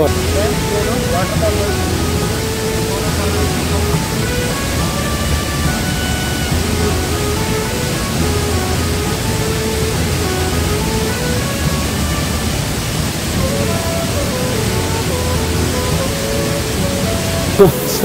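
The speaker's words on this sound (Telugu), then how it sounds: "చాలా పెద్ద వాటర్ ఫాల్" A large Himalayan waterfall in West Sikkim pours as a steady, dense roar of broadband rushing water that holds unbroken for the whole stretch, with faint voices and tonal sounds mixed in underneath.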